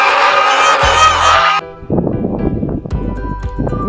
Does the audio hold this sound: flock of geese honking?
yes